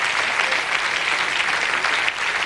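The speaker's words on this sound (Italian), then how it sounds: "venga, facciamo applausi Gigi" Loud, dense applause from a television studio audience, a steady roar of many clapping hands filling the space evenly for a few seconds without any talking.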